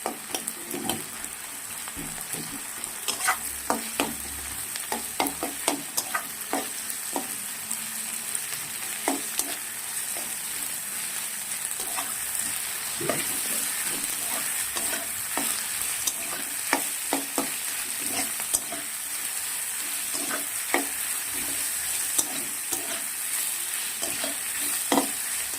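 Ginger-garlic paste with whole garlic cloves fries in a pan with a constant close sizzle, punctuated throughout by sharp spatula taps and scrapes against the pan.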